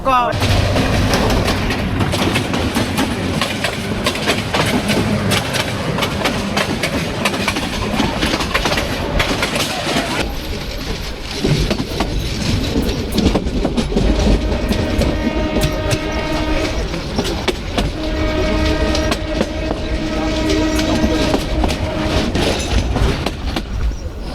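A commuter train rumbles across a railway bridge up close, loud and continuous, with rhythmic clattering wheels and long tonal horn-like notes in the second half.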